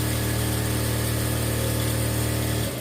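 An electric sewing machine runs a pressure stitch along the lining seam of a blouse. It makes a steady, close motor hum with an even whirring rhythm that stops abruptly just before the end.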